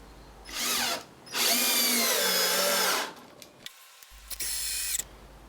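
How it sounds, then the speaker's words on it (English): Power drill driving screws into a pallet-wood table, a short whirring burst followed by a longer sustained run, then a brief third burst with clicks between. "Then drive in the screws."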